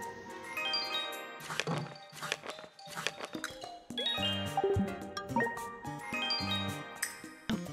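A bright game notification chime rings in Princess Peach Showtime!, clear tinkling tones mixed with jingly musical notes and sparkly effects, repeating in short bursts over the game's background music.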